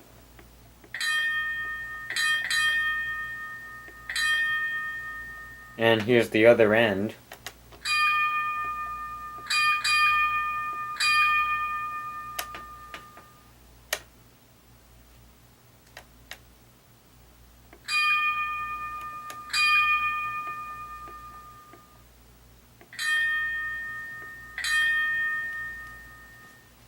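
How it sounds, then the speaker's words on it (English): Gong bell of an HO scale Bowser New Orleans streetcar model rings in repeated bright metallic clangs, struck in evenly spaced bursts that decay between strokes, heard close and clear with a brief burst of louder noise midway and a short spoken remark. "F1 is the gong bell."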